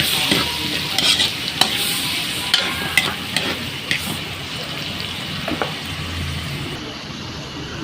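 Pork browned with garlic and onion stir-frying as tomato goes into the pan, a steady sizzle broken by scraping spatula strokes and light clinks of the pan, close and continuous without talk.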